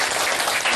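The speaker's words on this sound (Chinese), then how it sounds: "请大家先鼓掌欢迎他一下" Audience at a university public science lecture applauding to welcome a professor, a short dense burst of many hands clapping together, steady and fairly loud.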